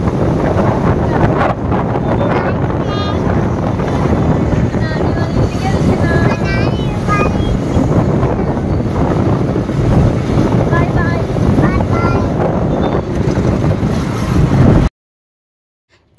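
Riding a motorbike at night, with heavy, loud wind buffeting the microphone over a low engine rumble, and a voice talking faintly underneath before everything cuts off abruptly near the end.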